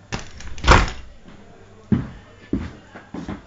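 A door opens with a sharp clack followed by several softer knocks and bumps spaced out over a few seconds, close by.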